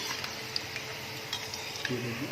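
Small chicken pieces frying over low heat in a pan for Chicken Manchurian, a steady close sizzle with occasional stirring clinks and scrapes, no talking over it.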